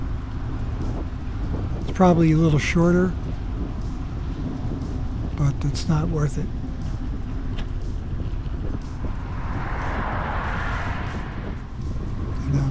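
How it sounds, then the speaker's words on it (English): Road traffic rolls past a cyclist on a busy road in New Castle County near Route 95, a steady broadband rumble of passing cars and buses, with someone talking briefly over it. "there's too much traffic"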